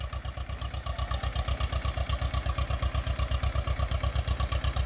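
An Escort 335 tractor engine running, giving a steady, rapid low thumping beat at an even idle-like rhythm. The sound is close and constant, with no speech.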